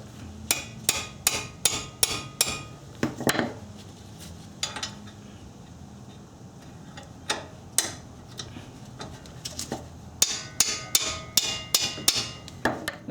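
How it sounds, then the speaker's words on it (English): A hammer taps the brake caliper bracket bolts during a caliper replacement: many sharp metallic taps, close and fairly crisp, coming in quick bursts separated by brief pauses. "I just tend to tap them lightly with a"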